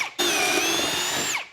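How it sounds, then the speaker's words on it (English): A power drill bores pocket holes in 2x4 boards through a Kreg Jig 720 Pro, one loud, steady whine that starts abruptly after a brief lead-in and holds close up before winding down. "we're using our Kreg Jig 720 Pro to make these pocket hole screws"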